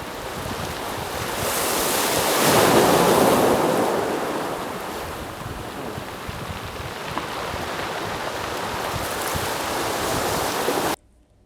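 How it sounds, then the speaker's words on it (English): Ocean waves wash in and out of a small Acadia cove, dragging and rolling beach stones with a continuous rushing surge that swells and eases, while a small stream trickles in and wind noise rumbles over the microphone. "The sounds of the stones rolling in and out with the waves, the small stream feeding into the ocean"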